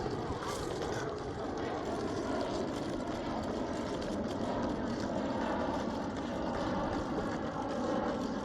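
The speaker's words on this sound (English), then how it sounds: "every 3 minutes you hear a jet taking off" A jet airplane takes off near a beach, a loud, steady, broad roar filling the whole stretch, with faint voices underneath.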